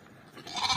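Katum sheep bleating in a single rising call that grows louder toward the end, close by and alone.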